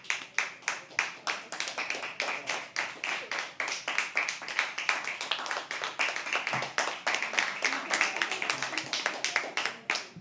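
Sustained applause from an audience at a live poetry open mic at The Habitat, dense rapid hand clapping at steady loudness throughout, close and continuous with faint murmuring underneath.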